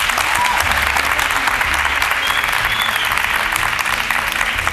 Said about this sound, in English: A round of applause to Samantha.